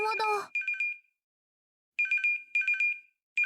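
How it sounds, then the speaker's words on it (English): A telephone rings in the Chaos;Child video game: bursts of a bright electronic trilling ring, several in a row with short gaps between them. A short stretch of speech sits right at the start. "あ、電話だ。"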